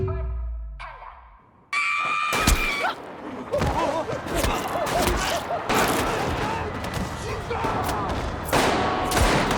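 Bursts of gunfire crack and pop repeatedly, mixed with shouting and screaming voices in a chaotic scene.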